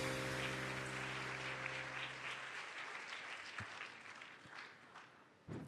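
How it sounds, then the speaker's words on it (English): Audience applause at the Aarohan Social Innovations Awards 2023 ceremony, a steady wash of many hands clapping that slowly thins toward the end, with faint low tones fading out early on. "Another huge round of applause,"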